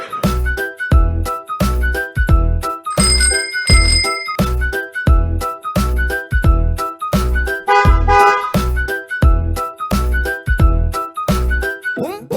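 A bicycle bell rings through a Tamil children's rhyme, its bright ding-dings repeating over a steady musical beat and melody, loud and mixed into the song.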